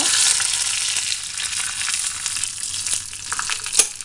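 Five dried red chillies and curry leaves crackling in hot oil, a loud, continuous close sizzle with scattered sharp pops and a few spattering bursts.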